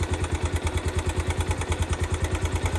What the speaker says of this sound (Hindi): ये गाड़ी स्टार्ट हो गई एक सेल्फ मारा हूँ हल्का सा स्टार्ट हो गया इंजन का कुछ आवाज़ इस तरह का है